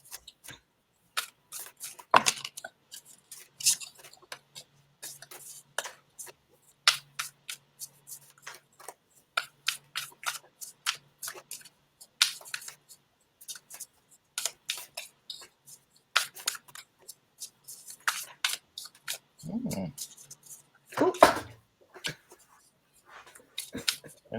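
Tarot cards are shuffled by hand, producing a quiet, irregular run of soft flicks and clicks that continues throughout, with a few louder snaps near the end.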